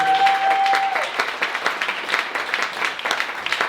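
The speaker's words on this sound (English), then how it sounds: "Let's keep the round of applause for Mr." Audience at a speakers' showcase applauding a speaker, a lively round of clapping with distinct individual claps, fairly close, and a brief tone at the start.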